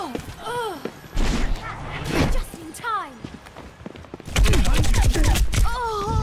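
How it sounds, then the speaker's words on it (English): Overwatch match with bursts of gunfire and rapid shots close by, several loud volleys, under a voice talking over the game. "despite there being gunfire next to me."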